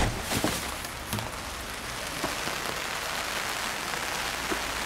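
Steady, dense hiss of heavy rain falling on a surface, with a few louder drops spattering close by, continuous throughout.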